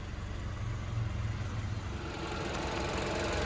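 A 2016 Jeep Renegade Limited 4x4's 2.4-liter four-cylinder gas engine idles steadily with a low, even hum, heard fairly close with no talking.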